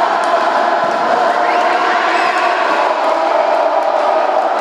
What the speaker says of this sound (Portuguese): E a torcida do Congo está cantando.